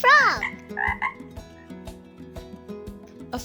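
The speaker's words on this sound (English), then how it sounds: "It's a frog." A frog croaks loudly and close at the start, a warbling call followed by a softer second croak, over a quiet rhythmic ticking background.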